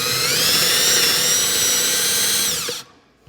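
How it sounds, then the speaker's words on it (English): A power drill whines steadily at high speed for nearly three seconds, then spins down and stops, close by with no talking. "Drill it, long enough so I can get a screw in there."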